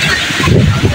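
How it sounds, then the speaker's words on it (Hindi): Sea waves rolling in at Seaview Beach in Karachi, a continuous wash of surf and wind noise close by, with people talking over the water. "वो आ गई लहर, आ गई"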